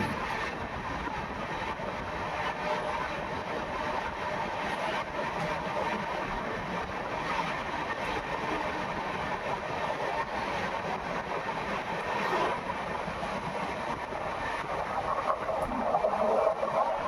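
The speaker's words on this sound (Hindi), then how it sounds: "ये ट्रेन है अजमेर बांद्रा टर्मिनस एक्सप्रेस" Ajmer Bandra Terminus Express passing on the line toward Ajmer Junction, a continuous loud rumble of rolling wagons and rattling wheels sustained throughout, with no one talking.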